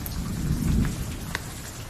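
Rain patters steadily outside during a thunderstorm while a low thunder rumble swells and fades, with a few sharper drops standing out near the end.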